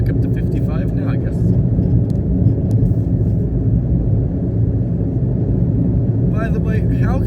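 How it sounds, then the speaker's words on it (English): Steady, loud broadband road roar and low rumble fill the cabin of a Mitsubishi Mirage driving up a mountain road, constant and close, with faint ticks and a brief swish near the end. "By the way, how can a road be so loud?"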